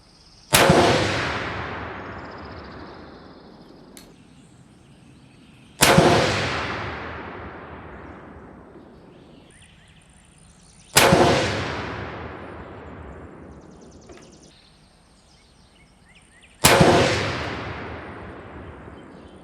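Four rifle shots from an 1885 Winchester fire at a range, each one a sharp, loud crack that rings out and decays for several seconds. They come at evenly spaced intervals, about five seconds apart.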